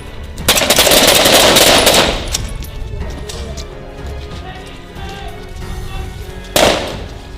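Machine gun fire in a combat setting, a loud rapid burst lasting about a second and a half, then scattered echoing shots and a second short burst near the end.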